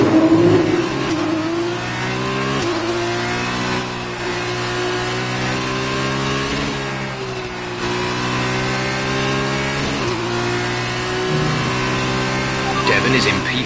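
A Formula 1 car in the racing game F1 2019 accelerates hard, its high engine note climbing through gear after gear in a steady rising whine, with a voice talking over it.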